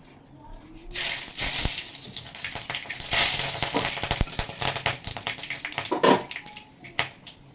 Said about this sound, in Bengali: তেল দিয়ে কড়াইতে বসিয়ে দিয়েছিলাম গরম হয়ে গেছে দিয়ে দেবো এবার ফোড়ন সর্ষে ফোড়ন